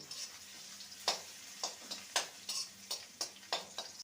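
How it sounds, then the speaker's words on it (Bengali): Crushed garlic frying in a pan, with sharp irregular ticks and crackles of spitting oil over a soft steady sizzle, close and moderately quiet. "সেই রসুনটা দিয়ে দিলাম রসুনটাকে ভালো করে ভেজে নেব"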